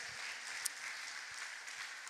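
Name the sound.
congregation applauding in church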